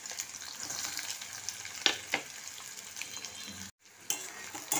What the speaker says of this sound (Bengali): পেঁয়াজটা খুব ভালো করে একটু ভেজে নেব